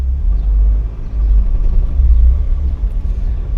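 A Ford Cortina with an overheating problem drives along a road, its engine a loud, continuous low rumble with steady road noise and no voices.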